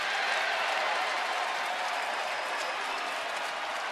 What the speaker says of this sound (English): Well, this crowd vocal tonight. Many on their feet now.